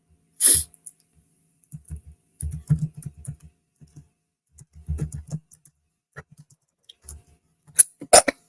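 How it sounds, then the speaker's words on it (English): A sharp sneeze bursts out, followed by a few quieter, scattered sniffs and shuffling noises, then another forceful sneeze near the end. "Can't stop sneezing."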